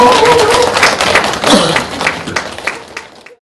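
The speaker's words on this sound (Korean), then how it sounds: "박수 주시겠습니다" An audience at a lecture on Korean folk painting of tigers gives warm applause, a full, close wash of clapping with some crowd voices, gradually thinning and fading out near the end.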